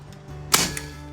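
A single sharp shot from an AEA HP Carbine TD .25 caliber air rifle during chronograph testing, a close, loud crack with a brief hiss and a faint trailing click, alone in a quiet setting.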